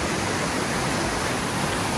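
A steady, broad roar of rushing river water with rain mixed in, in Kalam Valley, Swat, Pakistan, constant and close, no voices.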